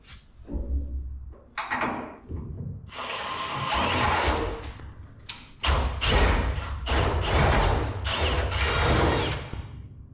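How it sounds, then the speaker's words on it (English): A power drill whirs in repeated bursts, with heavy thumps and clunks between runs as it bores holes for bed mounts on a 1959 Apache pickup. "drill some holes"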